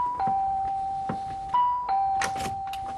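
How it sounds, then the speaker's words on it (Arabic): Doorbell held down in an apartment building hallway, a steady electronic chime tone sustained almost continuously and shifting pitch slightly, with knocking thumps and a few faint rustles mixed in. "اضرب الجرس."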